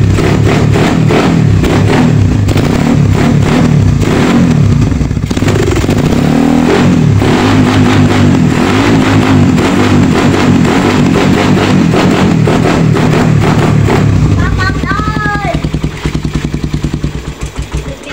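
Carbureted Suzuki Raider 150 motorcycle engine running loud and close, revving with rough, uneven pulses throughout, then easing down near the end.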